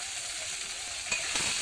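Onions frying in oil already used for frying fish give a steady, soft sizzle and hiss throughout, brightening slightly with a few crackles near the end, with no talking.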